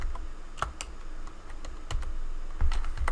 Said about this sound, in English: we'll just type in our access token